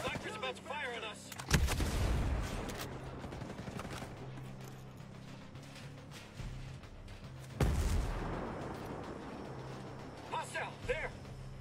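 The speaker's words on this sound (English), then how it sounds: "sniper's about to fire on us" Sniper gunfire in a video game lands as two heavy, booming shots several seconds apart, each followed by a rumbling decay, amid game noise with voices talking.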